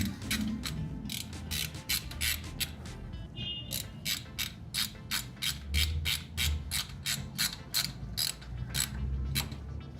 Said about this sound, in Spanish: se coloca el taponcito y le vamos a dar el ajuste y el torque especificado por el fabricante